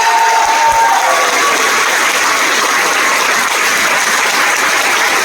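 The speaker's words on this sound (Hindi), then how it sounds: "तो जोरदार तालियां होना चाहिए।" A large audience at a speech event in Ranchi breaks into loud applause, a thick, continuous roar of clapping and crowd noise that stays at full strength for the whole stretch.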